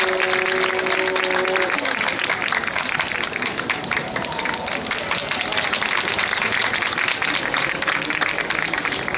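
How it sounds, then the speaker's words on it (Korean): Large crowd applauding at an outdoor candlelight rally, loud dense clapping sustained throughout, with a voice on the loudspeakers briefly audible at the start. "큰 박수 부탁드리겠습니다."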